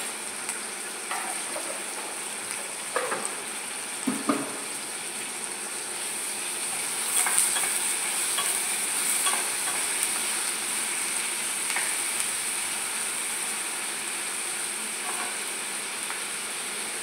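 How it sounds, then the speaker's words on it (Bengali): Onions fry in a pan with a little ginger garlic paste for an egg biryani, giving a steady, close sizzle. A few soft stirring knocks sound early on over the continuous crackle. "যাতে এটা তাড়াতাড়ি পেঁয়াজটা ভাজা হয়ে যায়"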